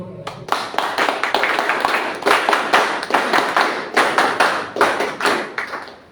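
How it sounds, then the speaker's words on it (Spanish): Audience applause for a speaker at a book presentation, close and fairly loud, with distinct individual hand claps and a few dull thumps forming an uneven burst that lasts several seconds. "Un fuerte aplauso para él."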